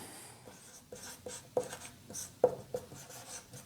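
Pen or marker strokes scratching out a maths equation on paper or a board, a string of short irregular scribbles with a few sharper taps, fairly close and quiet, with no talking.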